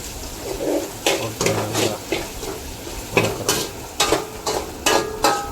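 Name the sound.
curry leaves frying in hot oil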